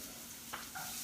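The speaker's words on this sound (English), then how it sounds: "You can hear it sizzle." Faint, steady sizzling of onion and garlic frying in hot oil, with a soft stir or scrape partway through.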